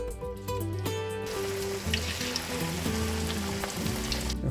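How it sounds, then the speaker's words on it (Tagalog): Chicken breast fillet frying in hot oil for crispy fillet, a continuous bright crackling sizzle with a low hum underneath, close and fairly loud, no voices. "So na, painit na tag mantika. So ato na siya dira. Ato na siyang fry."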